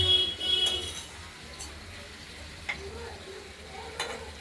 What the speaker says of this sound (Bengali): কাঁচা মাছ কি এই মশলাটা কষানোর সঙ্গে সঙ্গে মাছটাকেও সাঁতলে নেব